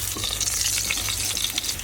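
Sliced bamboo shoots fry in a pan, giving a close, steady sizzle with soft crackles for about two seconds and no talk.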